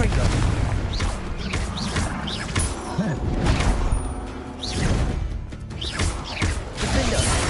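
Confringo spell explosions from the video game Hogwarts Legacy burst out again and again in a dense, busy battle mix, with crashing booms and whooshes layered close together for the whole stretch.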